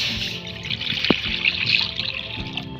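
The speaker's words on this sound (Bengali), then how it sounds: "এবার আমি জল দিয়ে দেবো" Water pours and trickles steadily into a pan of baby corn being cooked, a short continuous splash close by, no talking.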